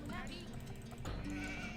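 A sheep bleats in the Age of Empires 2 video game, a short wavering animal call over background game music and ambience.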